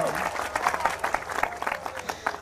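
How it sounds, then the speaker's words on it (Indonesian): A crowd at a religious talk claps in scattered, uneven bursts, moderately loud and fairly close, with murmuring voices mixed beneath the clapping. "Tepuk tangannya mana dong?"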